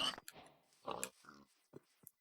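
Pigs in Minecraft oink and grunt in a few short, separate snorts across a quiet game scene, moderately loud with gaps between calls.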